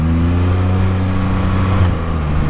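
A Can-Am Spyder F3-S three-wheeler fitted with an Akrapovic muffler idles with a deep, steady exhaust rumble and a strong low hum, close by and holding even throughout.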